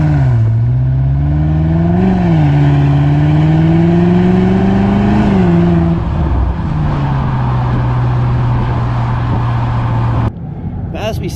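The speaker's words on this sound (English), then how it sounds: "you've just got a much more of a present V8 sound, which is really nice" A deep V8 engine of a 2023 Range Rover P615 SV L460 with a stainless steel exhaust revs up and down a couple of times close by, then settles into a throaty idle before cutting off.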